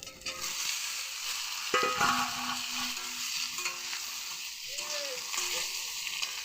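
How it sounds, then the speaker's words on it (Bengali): Elephant foot yam and potatoes stirred in a pan with hot spices, dry red chilli and tempering, giving a steady close sizzle with scraping stir strokes throughout. "একটু হালকা একটু নাড়াচাড়া করে নিয়েছি"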